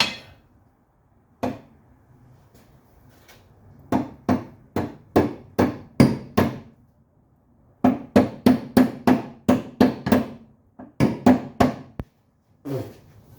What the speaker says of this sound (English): Hammer will make it nice.